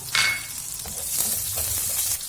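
Garlic sizzles steadily in hot oil, a continuous bright crackle with a few soft stirring scrapes, close up and with no talking.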